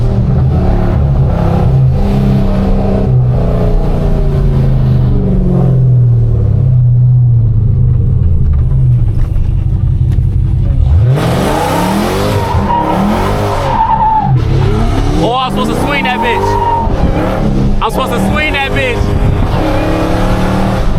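A Dodge Hellcat roars loudly up close, engine revving hard as tires skid and squeal through a turn, with a deep rumble running underneath and a voice talking over parts of it.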